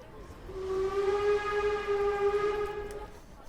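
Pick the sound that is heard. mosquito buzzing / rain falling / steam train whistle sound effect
steam train whistle sound effect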